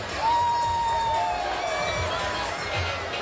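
A large crowd at a Carolina vs Arkansas college football game in 2017 murmurs and stirs restlessly during a replay delay, a steady roar with a whistle-like tone.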